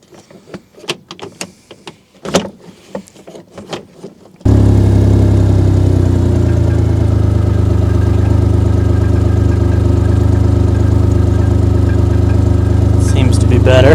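A John Deere Gator utility vehicle engine runs loudly and steadily close by, its sustained roar following several seconds of clunking and handling noises.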